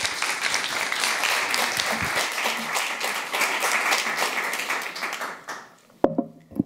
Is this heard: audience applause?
yes